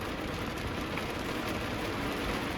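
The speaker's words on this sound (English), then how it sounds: "it's hailing" Hail and rain fall on a car on the road, a dense, even hiss of pattering that stays constant and moderately faint throughout, with no voices.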